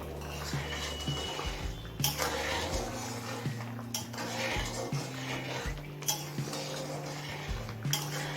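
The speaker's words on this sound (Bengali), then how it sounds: "নুনটা দিয়ে আবারও সব কিছু মিশিয়ে নিয়েছি" A spoon scrapes and clinks against a pot as peas pulao is stirred with salt, with regular metallic knocks and clatter over a low background hum, close by and without talk.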